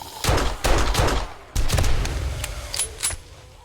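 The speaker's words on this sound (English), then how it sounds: "let's go ahead and chuck a grenade" Grenade thrown and bursting in the 7 Days To Die video game, heard as a few loud, sharp booming blasts with rumbling tails, close and without talk.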